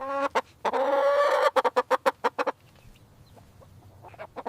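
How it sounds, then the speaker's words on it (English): A chicken clucks nearby, starting with a drawn-out squawk followed by a quick run of sharp clucks, then fainter scattered clucking trailing off. "Chicken."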